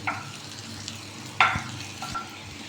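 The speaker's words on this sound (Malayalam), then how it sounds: "ഉള്ളി ചേർത്തിട്ട് ഈ ഉള്ളി ഒന്ന് മൊരിഞ്ഞ് വരുമ്പോൾ" Onions sautéed in a pan until browning, a close steady sizzle with a few sharp scrapes of a spatula stirring them.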